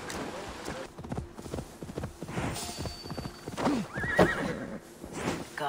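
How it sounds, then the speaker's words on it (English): In Assassin's Creed Valhalla, a horse whinnies and snorts while hooves clip-clop in uneven bursts nearby, with a brief bright tonal game effect mid-way and a voice talking over parts. "We're gonna take this horse then."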